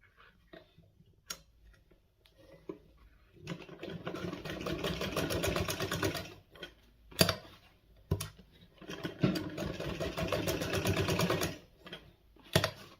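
A sewing machine stitches a joint in elastic for palazzo trousers in bursts, one long run, a pause with clicks and handling, then another run, interspersed with short taps and clunks.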